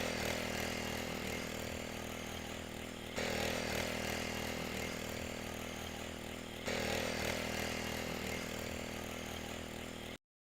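FarmAsia power weeder tilling soil in a field at about eight inches depth in second gear, its small engine running in a steady loud drone with two abrupt shifts in level before cutting off at the end.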